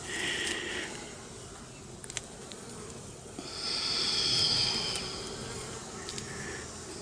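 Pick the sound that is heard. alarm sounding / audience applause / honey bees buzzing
honey bees buzzing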